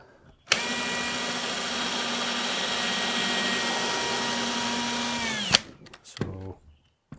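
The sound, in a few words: drill running with Erbauer angled keyless chuck attachment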